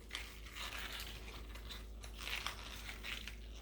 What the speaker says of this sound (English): Now we're gonna cut the green onions.